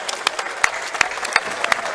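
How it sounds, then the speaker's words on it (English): A crowd applauds at a CS:GO LAN finals esports tournament, with steady, crackling clapping, sharp individual claps standing out in a dense, continuous patter. "give him a round of applause"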